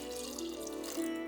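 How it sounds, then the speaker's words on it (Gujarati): Water poured into a khichdi pot holding vegetables, dal, kokum and peanuts makes a brief, soft, continuous splashing pour. "અને થોડુંક આપણે નાખીશું પાણી."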